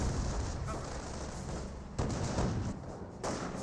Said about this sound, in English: And here comes a Nebel Warfare trying to hitting something.